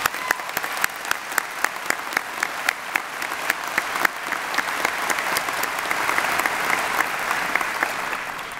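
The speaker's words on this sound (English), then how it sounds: "Please join me in a round of applause for them." Audience applause fills a commencement ceremony, a steady wash of many hands clapping that swells slightly and holds loud throughout, with no speech over it.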